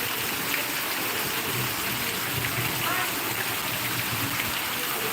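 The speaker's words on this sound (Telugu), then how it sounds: "వర్షం బాగా పడుతుంది ఎట్లుంటుంది చూడాలంటే" Heavy rain falls in Ramancha, a dense, steady wash of noise that stays loud and even from start to finish, with a faint voice buried beneath it.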